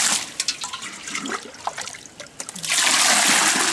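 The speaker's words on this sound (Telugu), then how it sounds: "ఈ ఘనజీవామృతం పీసెస్ ని ఇప్పుడు ఇవి వాటర్ వేసాను" Water is poured from a container onto pieces of ghanajeevamrutham, a solid organic fertilizer, first in uneven splashes and dribbles and then in a steady, close, gushing pour.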